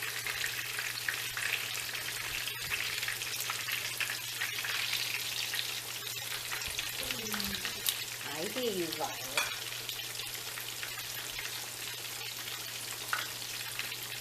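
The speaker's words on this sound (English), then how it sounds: "And they fry up so nicely in this big giant pan." Steady crackling sizzle of chicken cutlets frying in a big pan, constant and close, with a low hum underneath and a brief voice speaking partway through.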